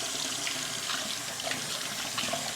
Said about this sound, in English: Let this water get heated up a little bit.